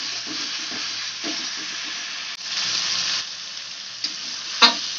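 Chopped tomato and spice paste fry for a pomfret fish curry, a loud, dense, continuous sizzle close by, with a brief dip and a few soft spoon knocks.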